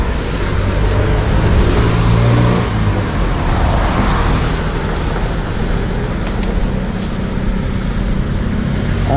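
A car engine cranks over and over without catching, a loud continuous rumbling churn that holds steady throughout with no voices.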